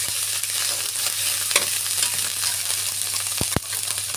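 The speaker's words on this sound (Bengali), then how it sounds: "মশলাটা কষাই নিই" Spice paste with salt sautés in a pan for a vegetarian Malabar spinach dish. A constant hiss of frying runs throughout, broken by a few sharp scrapes and clicks from the stirring spoon.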